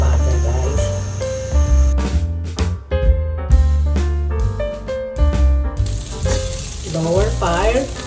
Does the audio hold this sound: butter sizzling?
yes